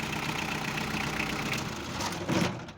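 A Kubota GT-3 small tractor engine runs steadily nearby, a continuous rough mechanical drone with a brief swell near the end.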